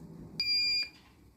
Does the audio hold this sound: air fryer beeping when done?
yes